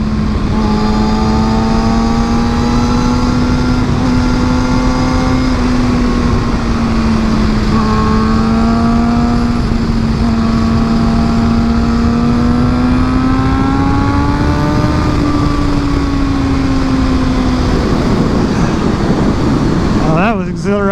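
A 600cc super sport motorcycle ridden through corners, its steady high engine whine rising and falling in pitch as the rider works the throttle, loud and close under continuous wind noise.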